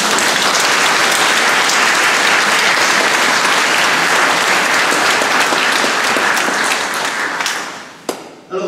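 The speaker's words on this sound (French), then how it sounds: "Alors on les applaudit très fort." Loud, sustained applause from a congregation fills a village church anniversary celebration, steady and dense for about eight seconds before tapering off with a few final claps.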